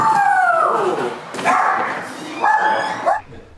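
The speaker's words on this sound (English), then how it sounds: "So we have a barky little dog, but he calms down fast." Small dog barking and yipping up close, several loud high-pitched barks and whines in bursts over a few seconds, calming toward the end.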